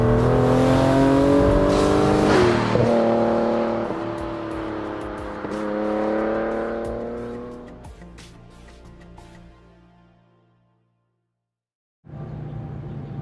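A Mazda MX-5 fitted with a 3.0 V6 engine revs loudly up close, pitch climbing and falling through several throttle blips before dying away to silence, then the engine roars again.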